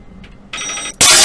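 A telephone ringing in the horror video game Office Paradox, a brief faint chirp followed by a loud electronic ring that cuts off and gives way to a sudden louder burst.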